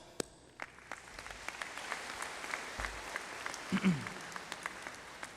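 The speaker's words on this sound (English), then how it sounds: "let's give them a big round of applause" A graduation audience applauds the graduates' families, the clapping swelling from a few scattered early claps into steady, moderately distant applause in a large hall, with a brief low thump partway through.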